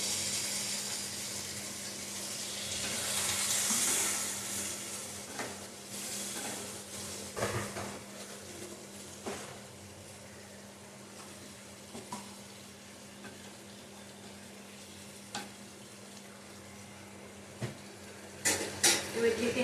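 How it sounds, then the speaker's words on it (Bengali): Gathi kochu (taro) frying in a pan with a little water, a soft sizzle with scattered clinks and scrapes of stirring, a brief louder hiss early, faint and close. "জল দিয়ে একটু ভেজে দেবো"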